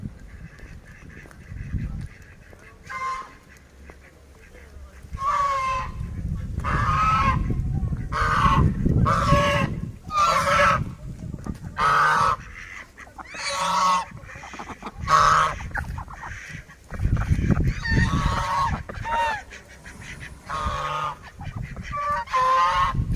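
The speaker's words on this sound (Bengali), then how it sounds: "এখানে হচ্ছে রাজহাঁস।" A flock of geese honk loudly and repeatedly, close by at a picnic spot with a boating pond, their calls overlapping in bursts with occasional short pauses.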